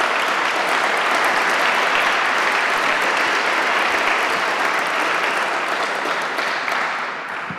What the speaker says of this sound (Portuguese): pedindo novamente a todos uma salva de palmas